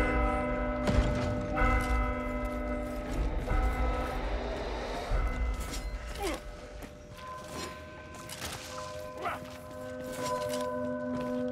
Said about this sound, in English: Strike the bell.